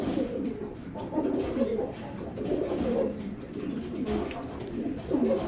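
Old-breed tumbler pigeons coo in low, throaty, repeated rolls, close by and fairly steady, with a few overlapping calls.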